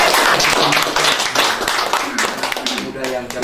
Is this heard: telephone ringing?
no